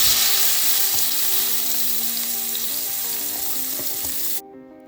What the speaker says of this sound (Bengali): তো আগে ভেজে নিচ্ছি চিংড়িগুলো।